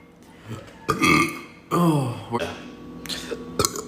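Several loud, drawn-out burps in quick succession, close and wet-sounding, with brief gaps and a few short sounds between them.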